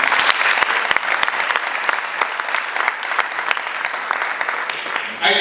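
Enthusiastic audience applause fills a hall at a speech on education at Makerere University in Uganda, a dense, steady wash of clapping that carries loud and close for several seconds before tapering slightly at the end.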